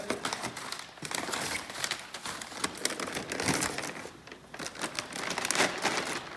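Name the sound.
unwrapping a new car hose from its bag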